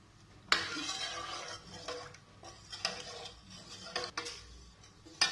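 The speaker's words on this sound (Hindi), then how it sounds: "इसको मैं अच्छी तरह से मिक्स कर लेती हूँ" A spoon stirring a milk mixture for banana custard in a metal bowl or pan, with irregular clinks and scrapes against the side, close and fairly quiet, with no talking.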